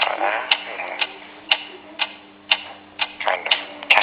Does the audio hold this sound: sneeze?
no